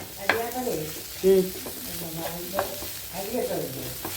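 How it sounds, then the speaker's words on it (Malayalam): Onions and chillies sautéing in a pan for a Kerala-style chicken roast, a soft sizzle broken by intermittent stirring clinks and scrapes, with faint voice-like sounds in between. "അങ്ങനെ നമ്മുടെ ഉള്ളിയും മുളകും എല്ലാം നന്നായി വഴന്ന് വന്നിട്ടുണ്ട്"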